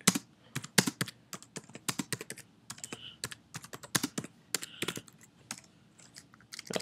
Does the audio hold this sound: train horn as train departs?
no